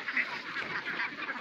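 Ducks on a duck farm quack steadily in a noisy, overlapping chorus, fairly close and continuous throughout, with no voices over them.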